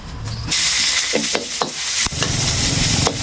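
Loud, continuous sizzling of pork stir-frying in a hot pan with a little oil, with occasional scraping and stirring clatters over the steady hiss.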